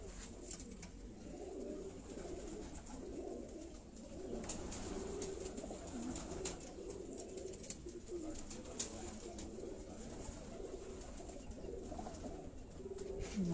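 Pigeons in a breeder's flock coo softly and continuously, low and somewhat distant, with a faint steady background hum.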